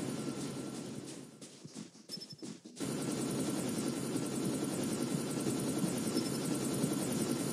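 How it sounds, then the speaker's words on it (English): Stealth helicopter approaching in Call of Duty: Mobile, a loud continuous rotor drone that dips briefly and then returns at full strength, heard alone without talk. "Hostile stealth chopper inbound."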